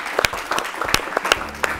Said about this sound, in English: So let's clap for them once again